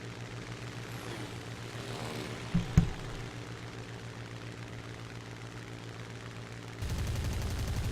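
Gunfire in a Simulator Battle loser-bracket round between Wolfe and MNS, with a short burst of shots over a steady droning engine hum and a louder rumble joining near the end.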